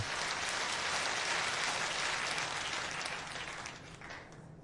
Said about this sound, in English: People gave a round of applause. They loved it.